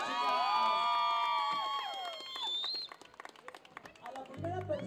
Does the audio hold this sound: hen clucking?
no